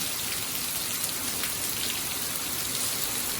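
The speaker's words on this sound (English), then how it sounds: "Now it's just torrential rain." Torrential rain pours down during a severe thunderstorm in Fayetteville, Georgia, a dense, steady hiss of heavy drops drumming on surfaces, constant and loud throughout with no voices.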